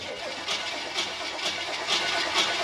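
A carbureted Ford Shoebox engine cranks over in a steady, evenly spaced rhythm of about two beats per second, loud and close, with no voices.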